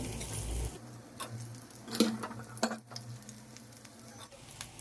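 Rice being stirred into fried grated mango in a pan while making mango pulihora, a soft continuous sizzle with scattered scraping and stirring clicks, moderately close, with no talking.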